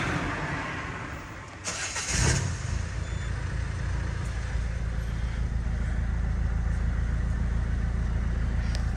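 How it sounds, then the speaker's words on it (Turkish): A Citroën C-Elysée 1.6 HDi diesel engine with a cutout exhaust cranks and catches on a cold start, then settles into a steady, rumbling idle that continues without a break. "Şimdi bir cold start yapıyorum. Sizler de sesini dinleyebilirsiniz."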